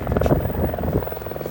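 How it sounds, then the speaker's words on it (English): A helicopter drones in the background near a parked 2016 Zero DS electric motorcycle, a steady throbbing rotor chop at moderate loudness with no voices. "That is a helicopter you hear in the background, not the motorcycle."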